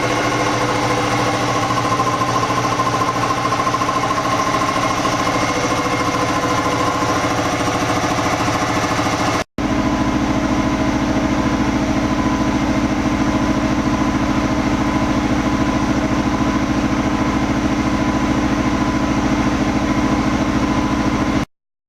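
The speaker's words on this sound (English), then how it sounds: "The prime mover of this system is back here, which is just an electric engine or motor, and it's just belt driven to this" An electric motor drives a pump system through a belt, giving a steady loud mechanical hum with rhythmic whirring; the tone shifts once partway through, then runs on unchanged.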